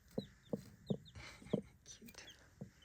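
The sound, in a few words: broody hen clucking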